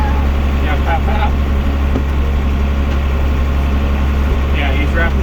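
A John Deere 7400 tractor engine runs steadily while baling hay, a constant low rumble heard from the cab with faint clicks and rattles on top.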